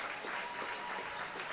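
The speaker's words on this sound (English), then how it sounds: "Over to our left, they're clapping." Basketball fans in the stands clapping in a quick, even rhythm, faint and a little distant, with no talk over it.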